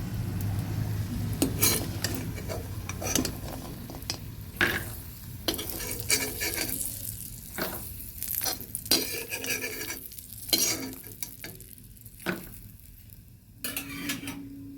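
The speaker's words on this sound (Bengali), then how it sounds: "এবার একটু তেল দিয়ে দিচ্ছি দিয়ে দেবো একটা শুকনো লঙ্কা আর একটুখানি পাঁচফোড়ন ফোড়ন" Oil sizzles in a pan while a dry red chilli and panch phoron are tempered after frying fish, with a soft crackle under repeated utensil clinks, scrapes and stirring, close and without speech.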